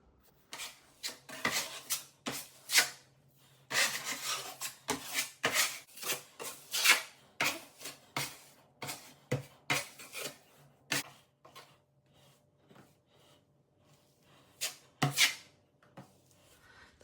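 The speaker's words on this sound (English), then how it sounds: "Now I'm going to try to get all the sanding done on the trim work, the living room." Wooden living-room trim being sanded by hand, a series of dry rasping strokes in bursts with short pauses, close and fairly loud, thinning out toward the end.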